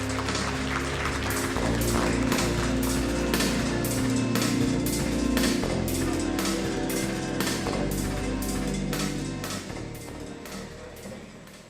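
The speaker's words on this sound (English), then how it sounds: "let's put our hands together and give sir a louder round of applause" An audience claps to welcome a speaker to the stage for an opening address at an ESG conference. Steady, moderately loud applause with a prominent rhythmic beat running through it, tapering off in the last couple of seconds.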